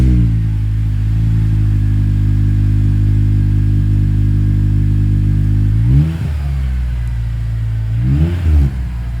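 A stock Acura TSX CL9 engine idles with a deep, loud rumble through a new 3-inch single exit exhaust, then revs up sharply twice near the end, each rev dropping back.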